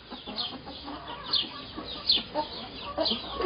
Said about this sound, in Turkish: Bunlar yozlar, ev tavukları. Bunlar yumurta tavuğu.